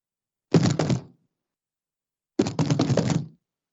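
A voice imitates rhythmic slaps against the side of a house in two short bursts of rapid thumping, each about a second long, separated by silence.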